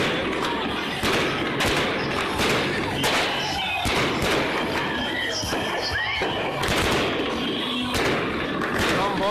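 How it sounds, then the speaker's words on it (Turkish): Repeated sharp bangs and crackling bursts of fireworks over a noisy crowd at a protest in Bornova Cumhuriyet Square, Izmir, with torches lit and people talking and cheering throughout. "Havai fişekler,"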